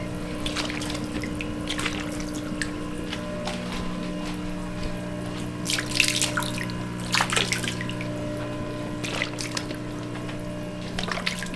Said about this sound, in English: Spread it out in the pond.